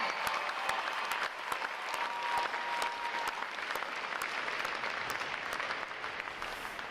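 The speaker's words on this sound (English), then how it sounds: "how about another round of applause for our award-winning individuals and divisions?" Audience applause at a U.S. Navy boot camp graduation ceremony, sustained dense clapping from a large crowd with scattered sharp individual claps, steady for the whole stretch with no talk over it.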